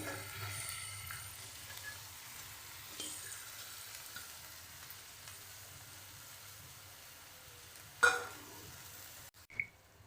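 Washed and cleaned ghevada flat beans go into a hot pan and give off a soft, steady sizzle with faint stirring, ending in a couple of brief clatters near the end.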